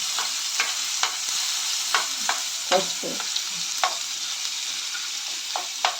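Ginger-garlic masala for prawn curry fries in hot oil with a loud, continuous close sizzle, broken by regular scraping strokes of a spoon stirring the pan.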